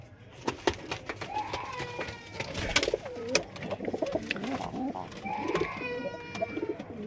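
White peacock-tailed pigeons call and coo continuously in a flock, overlapping throaty coos and sharper cries with scattered wing claps and clicks, close and moderately loud, with no talk.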